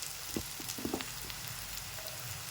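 Ginger and garlic fry with chili and onion in a soft, quiet sizzle, with a few brief clinks and taps of a spoon early on.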